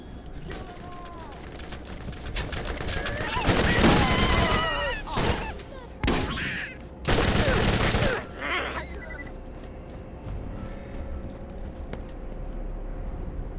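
Bursts of rapid fire from the Bone Shredder, a Tediore SMG in Borderlands 1, come in loud dense volleys between quieter stretches, with a voice groaning among the shots.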